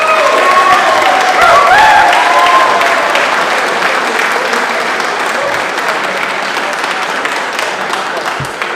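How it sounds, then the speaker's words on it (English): Spectators at an adult softball handball semi-final give a big, steady round of applause as a player enters the court, loud sustained clapping that holds evenly throughout, with no voice standing out. "Gotta get a big round of applause for Cormac Finn."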